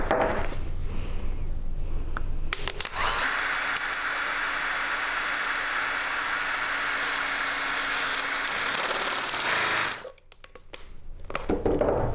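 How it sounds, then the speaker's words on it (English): A whining power drill with a step bit runs continuously for several seconds, grinding through a plastic bottle with a high-pitched hiss, then stops abruptly. "it's stiff enough to actually drill with this step bit"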